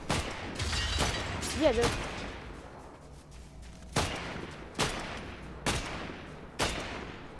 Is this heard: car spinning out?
no